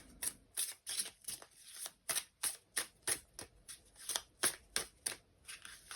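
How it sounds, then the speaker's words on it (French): Tarot cards being shuffled and drawn, a quick run of crisp riffling snaps and flicks in an uneven rhythm, close up and fairly soft, with no voice. "Je vais quand même tirer une autre carte."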